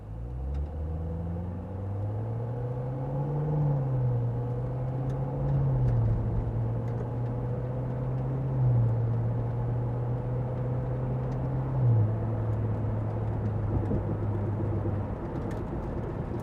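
A 2018 Chevrolet Corvette engine rumbles and climbs in pitch through several gear changes, a deep steady roar building as the car accelerates.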